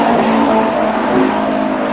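A NASCAR Sprint Cup stock car on a qualifying lap at Darlington, its engine a loud, steady roar passing close by throughout.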